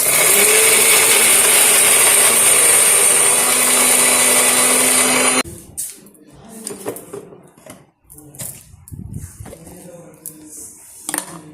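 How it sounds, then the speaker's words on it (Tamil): A loud mixer grinder whirs for about five seconds grinding chutney, then cuts off, followed by clinks and clatter of kitchen utensils. "நல்லா மிக்ஸ் பண்ணிட்டு அரைச்சி அரைச்சிக்க போகிறோம்"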